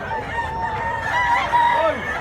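A White Leghorn rooster about 3.5 months old crows nearby, a drawn-out rising and falling call over a low murmur of background noise.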